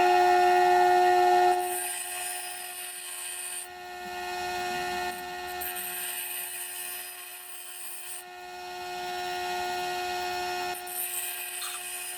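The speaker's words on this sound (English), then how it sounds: "This one I'm going to try to do freehand on the wheel and see where it goes." A Rikon 8-inch slow speed grinder runs steadily with a strong whining hum while a woodturning tool is sharpened freehand on the wheel, and the scraping grind rises and falls in bursts across the whole stretch.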